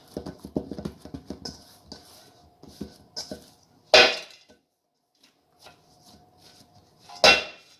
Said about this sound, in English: It means just to knead it one more time to take the air out.